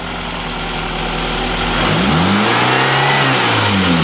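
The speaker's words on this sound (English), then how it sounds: "rev it up a little bit every once in a while" A 7th-generation Toyota Celica GTS engine idles during radiator coolant bleeding, then revs up sharply with a rising roar before easing back, loud and close with a hissing undertone.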